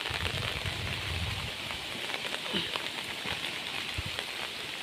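Steady rain falling during a storm, a soft continuous hiss of drops on surfaces with scattered individual patters, fairly quiet and heard alone.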